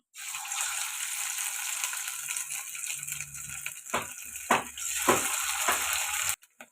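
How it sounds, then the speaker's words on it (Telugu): Marinated fish frying in hot oil in a kadai gives a constant close hiss, joined by a few clattering handling knocks near the end before it cuts off abruptly. There is no speech. "ఆయిల్ వేడైంది ముందుగా మ్యారినేట్ అయిన ఫిష్ని అందులో వేసేద్దాం"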